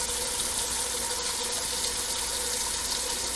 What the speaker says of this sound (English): turn on some water here